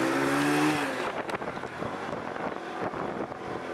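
A motorbike in Bahria Town, Pakistan, kicks into life with a rising engine whine, then pulls away with a buzzing, fluttering engine drone mixed with wind rush, and no talk.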